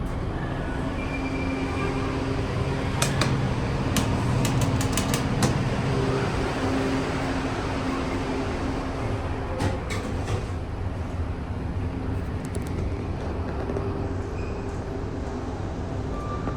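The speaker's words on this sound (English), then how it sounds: "See a train arriving right there." A WMATA Metro train rumbles into Huntington station in Virginia with a steady roar, brief metallic clicks and squeals from the wheels rising over the noise.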